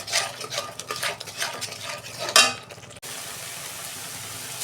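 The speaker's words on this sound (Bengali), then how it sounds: "2 মিনিট আমি মশলাটাকে কষাবো।" Spices with chilli powder and salt are stirred and sautéed in a pan with lively scraping from a spatula and clinks of metal over a sizzle. One sharp scrape comes near the end, and then a quieter steady fry follows.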